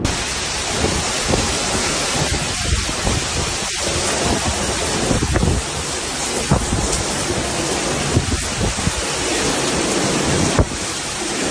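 Heavy thunderstorm downpour over Kyiv with gusting wind, a dense steady roar of rain and wind filling the whole stretch with low rumbling thunder beneath, loud and continuous with no voices.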